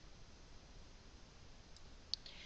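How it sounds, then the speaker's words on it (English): A single faint computer mouse click, sharp and brief, over a quiet background hiss. "So I'm going to click my View Cart and Checkout."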